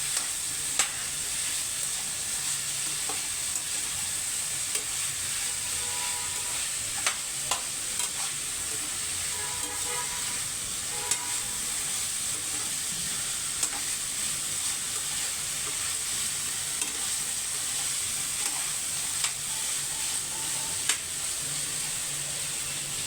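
Pav bhaji masala fries in a pan with a steady, close sizzle and hiss, broken now and then by soft scraping and stirring clicks, with no one talking.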